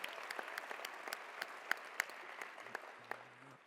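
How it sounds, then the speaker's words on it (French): Scattered audience applause at a French team event, thin and fairly quiet, with individual claps standing out over a soft wash and a brief low tone near the end. "Oui, des applaudissements."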